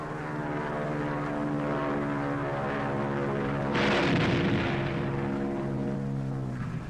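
A propeller fighter plane roars past low on a bombing run, engine drone steady and loud, then surging harshly as it passes close overhead.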